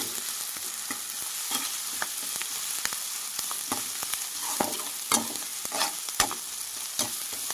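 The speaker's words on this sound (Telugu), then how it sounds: "మొత్తం బాగా ఫ్రై చేసుకోవాలి" Ground masala fries in a pan for chicken curry with a continuous close sizzle, while frequent spoon scrapes and clinks come from steady stirring.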